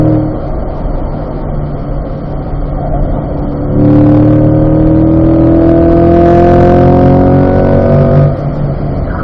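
Car accelerating on a race track, the engine note climbing in a long rising pull before easing off, loud and close, heard inside the car.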